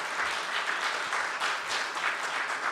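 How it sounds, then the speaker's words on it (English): A lecture-hall audience giving a round of applause for a panel of three doctors, dense steady clapping throughout, moderately distant. "Let's give them a nice round of applause"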